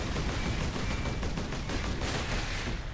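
Continuous gunfire in the video game Warhammer 40000 Space Marine, a dense, loud burst of rapid shots with no break, sounding like sustained automatic fire close up.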